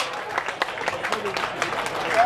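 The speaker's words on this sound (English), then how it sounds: "Give them a big cheer, your first heat of the Open" Crowd at a sheep shearing competition applauding and cheering after an open heat, a steady patter of clapping with scattered louder claps throughout, moderately distant and continuous.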